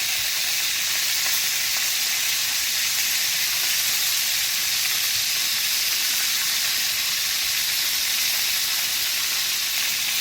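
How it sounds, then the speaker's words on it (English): Sausages browning in a frying pan for UK-style bangers and mash, giving a steady, even sizzle and hiss that runs unbroken throughout with no talking. "our sausages have been browning for 10 minutes now"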